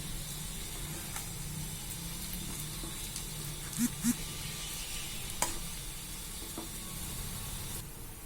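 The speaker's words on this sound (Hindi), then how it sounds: "अब हम इसे अच्छे से मिक्स कर देंगे" Leftover rice and roti being stirred in a frying pan, a steady close sizzle and hiss of frying with occasional scrapes and light clicks of the spoon throughout.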